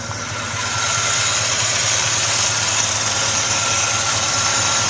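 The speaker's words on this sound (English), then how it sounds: "That's the motor." A 1965 Ford Galaxie engine idles steadily nearby, a constant low rumble with faint rhythmic throb and broad mechanical hiss, holding an even level throughout with no voices.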